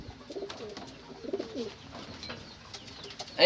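A homing pigeon coos inside its loft, giving low, soft, rolling coos in a few short bursts, close by against a quiet background.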